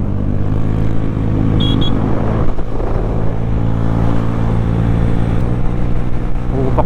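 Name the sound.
motorcycle riding past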